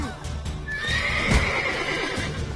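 In a PS4 video game, a horse gives a clear, rising neigh near the middle of the clip, with hoof clip-clops and game noise around it.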